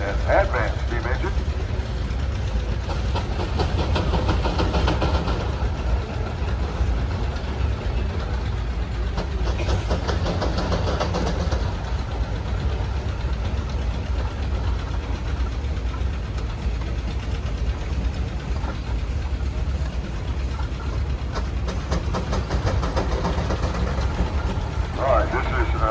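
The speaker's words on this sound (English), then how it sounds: "next up we have an advanced steam engine" A 1918 Advance Rumley Universal 20 horse steam engine runs at a threshing show parade, a steady low mechanical rumble with faint knocking held throughout amid crowd noise and a loudspeaker voice.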